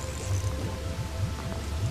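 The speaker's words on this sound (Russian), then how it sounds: "Дождь не на шутку зарядил." Heavy rain falls during a fishing trip, a faint steady patter with soft low rumbling underneath, no voices.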